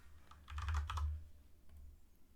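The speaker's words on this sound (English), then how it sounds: "we'll type in 1, 2, 3," Numbers are typed on a computer keyboard, a quick close burst of a few key presses followed by a softer keystroke or two.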